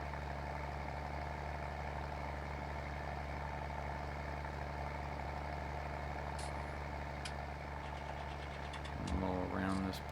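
A lawn mower engine drones steadily and loudly while mowing in a video game, with a low, constant rumble throughout and a brief rise in intensity near the end.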